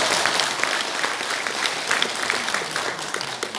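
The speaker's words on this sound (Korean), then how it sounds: "박수 한번 치시죠?" Audience applause at a political gathering in the National Assembly members' building, steady loud clapping from a crowd that continues evenly throughout.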